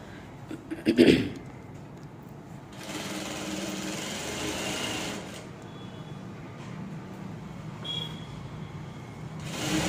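A sewing machine runs in short bursts while stitching a double fold on a pair of shorts, a rapid whirring hum that starts, pauses and resumes at moderate volume, with a brief clatter near the start.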